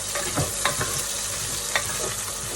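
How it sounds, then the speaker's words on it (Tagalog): Pork fries in a pan as its fat renders for a mung bean stew, giving a soft, continuous sizzle with light stirring clicks and faint crackles, no voices. "Palalabasin natin yung mantika."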